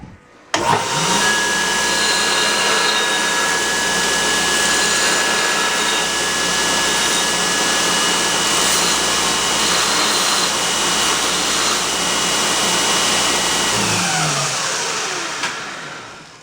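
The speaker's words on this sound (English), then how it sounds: "I'm gonna hit it with the grinder there and clean up the edges a little bit" An angle grinder runs continuously, cleaning up the edges of freshly cut metal for a Datsun 521 ball joint modification, a loud steady whine with a gritty rasp that spins up at the start and winds down at the end.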